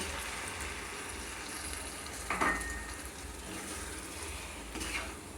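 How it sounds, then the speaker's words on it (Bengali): Coconut milk hits rice fried in ghee in a pan for prawn pulao, setting off a steady close sizzle with a brief louder hiss and some stirring, and no voices. "এবার আমি এতে দিয়ে দেব এক কাপ নারকেলের দুধ"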